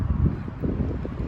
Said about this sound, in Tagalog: Medyo mahangin at saka cloudy